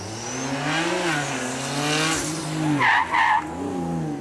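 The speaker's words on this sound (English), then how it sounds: "It's not often that you hear tyre squeal from one of those." A racing car's engine winds down sharply at Beaulieu Supercar Weekend, then its tyres squeal in two short bursts under hard braking, loud and close.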